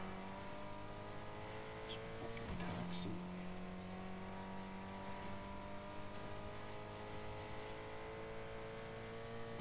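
A car engine drones steadily in Fortnite, a continuous close hum with shifting pitch as the vehicle drives, plus a brief burst of tire or impact noise partway through.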